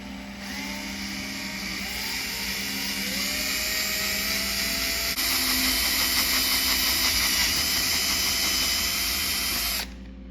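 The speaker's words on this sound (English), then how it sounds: "Make sure your drill is vertical now." A power drill whines steadily, its pitch shifting and growing louder as it bores vertically into metal, then stops abruptly near the end.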